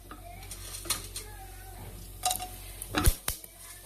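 Cinnamon and cloves tipped into hot oil in a pressure cooker: a few faint metallic clinks and taps from a utensil on the cooker, ending in a couple of sharper clanks.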